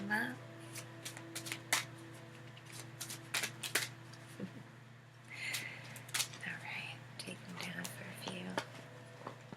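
Tarot cards shuffle in quick riffles and soft slaps, close and quiet, with faint whispering and a low steady hum underneath.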